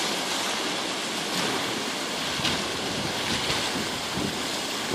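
Steady ocean surf washes and breaks continuously with whitecaps over a sandbar, mixed with heavy wind buffeting the microphone, with no voices.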